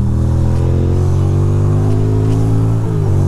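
A motorcycle engine pulls out and accelerates, a loud steady low drone with a slowly rising pitch throughout, close by, no voices.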